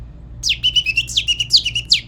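A man whistling an imitation of a goldfinch call: a quick run of bright, twittering chirps and sliding notes, clear and close, heard alone over a faint low hum.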